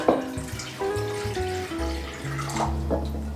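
Water is poured from a crock bowl, a close, continuous splashing and gurgling stream with shifting pitch as the bowl tips, heard alone in a home kitchen.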